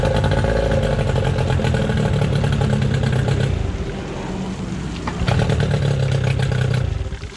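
An outboard boat engine runs loud and close after a kill switch replacement, a steady droning idle that dips briefly midway before picking back up and then cutting off at the end.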